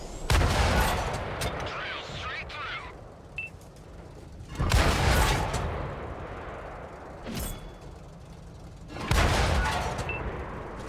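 Heavy tank cannon shots in World of Tanks boom out in three loud blasts spaced a few seconds apart, each with a long rumbling tail, while players talk over the battle.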